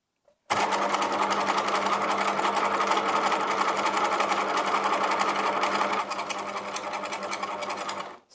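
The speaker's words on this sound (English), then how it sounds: "We're now going to sew a straight line" A sewing machine stitches a straight line through fabric, its rapid, even motor whir and needle rattle running steadily and up close for about seven and a half seconds before stopping abruptly.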